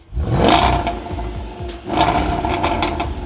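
A Jaguar F-Pace SVR's 542 bhp 5-litre V8 petrol engine revs hard, roaring up in two loud surges with a brief dip between them, heard up close.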